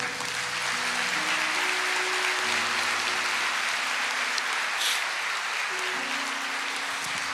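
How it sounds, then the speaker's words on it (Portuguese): A church congregation applauding during a worship service, steady, dense clapping over sustained organ or keyboard chords, fairly loud and unbroken throughout. "Aplauda ao Senhor."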